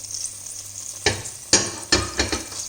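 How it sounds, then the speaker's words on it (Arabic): Whole spices such as cumin seeds and a cinnamon stick are stirred in butter in a hot pan, giving a soft steady sizzle broken by several sharp scraping stirs. "والان تنحركوا هاد التوابل مع الزبده مزيان حتى يطلقوا"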